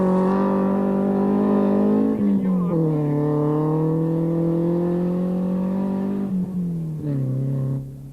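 Rally cars competing in the 1986 Zimbabwe Challenge Rally give a loud, near engine drone that rises and falls through gear changes, with revs dipping and climbing several times over the stretch.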